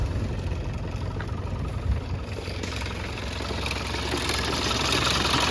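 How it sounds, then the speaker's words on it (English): A 1991 Land Rover Defender 90 with its 200Tdi diesel engine idles steadily and close by, a low continuous rumble with a light rattle from the airbox, heard alone without talk. "a little bit of a rattle coming out of the airbox. Runs really good."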